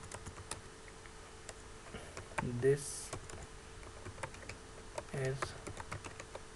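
Computer keyboard typing while working in CorelDRAW: scattered light key clicks with a couple of louder keystroke clusters, close and quiet, under soft intermittent speech.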